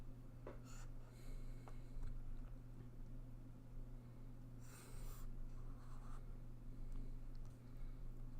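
Pen writing on paper while drawing a graph, faint scratchy strokes in short bursts over a steady low hum, no speech.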